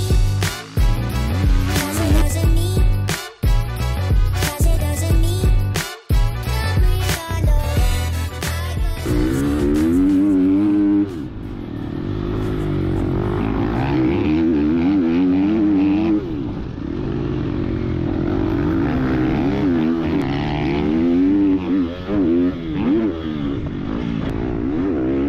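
A Triumph MX TF250X motocross motorcycle engine revs and roars up close, rising and falling in pitch as it accelerates, with rattling mechanical clatter early on and no talking.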